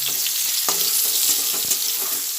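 Cauliflower florets frying in hot oil with a little salt for a Bengali malai curry, giving a steady close sizzle with a few soft stirring knocks throughout.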